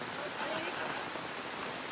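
Steady rain falling at a campsite, a soft even hiss of drops that fills the whole moment, with a hint of voices underneath.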